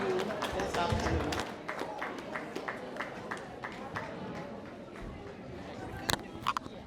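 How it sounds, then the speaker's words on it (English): Audience applause at a fashion event, heard as scattered, uneven claps that start fuller and thin out into sparse individual claps, with a few sharp louder claps near the end and some background voices. "that applause wasn't worth what H.E said"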